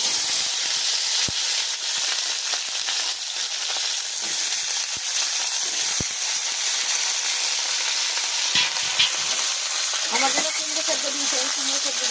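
Vegetables sizzle in a pan at home with a steady hiss of frying oil, punctuated by a few sharp utensil clicks and scrapes, and someone talks over it near the end.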